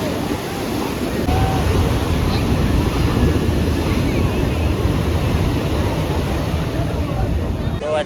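Sea waves wash ashore at Shivrajpur beach near Dwarka, Gujarat, a continuous rushing surf heavily buffeted by wind against the microphone.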